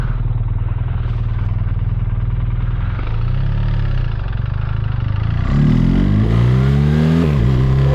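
A BMW GS motorcycle engine rumbles at a steady idle, then revs up loudly in rising and falling sweeps near the end, close and with no voices.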